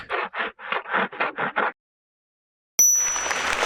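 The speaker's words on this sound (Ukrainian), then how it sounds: "пролунав третій дзвоник." A theatre's third bell gives a single bright ring after a brief silence, followed by a broad wash of hiss.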